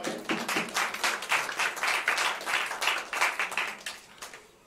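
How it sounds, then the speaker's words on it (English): A small jazz club audience claps for a few seconds after a quartet's performance, scattered hand claps swelling then fading out at the end. "give them a round of applause for that."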